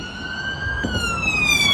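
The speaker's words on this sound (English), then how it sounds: "It's the sound of the police." A police car siren on a London street wails and rises in pitch, fairly close, with traffic rumble underneath and no voices.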